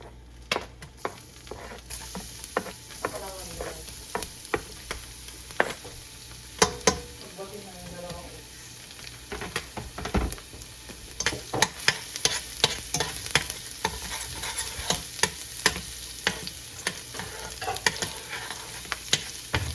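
Garlic fries in a pan for lomi, giving a steady crackling sizzle with scattered pops and scraping stirs close up throughout.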